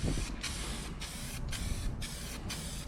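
Spray paint hisses in repeated bursts onto car parking sensors being prepped for front and rear fitting, five or six close, steady blasts separated by brief pauses.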